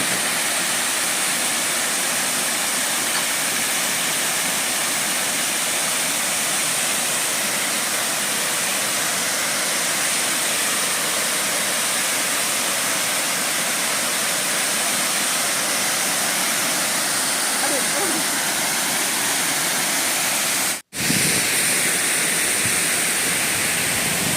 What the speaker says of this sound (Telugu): ఆ వాటర్ ఫాల్స్ని చూసి ఎంజాయ్ చేయాలి కదా చాలా బాగున్నాయి